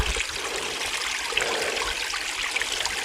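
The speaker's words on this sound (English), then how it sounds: "A little seasonal creek here." A small seasonal creek running downhill, a steady close rush and trickle of water that holds an even level throughout, with no voices.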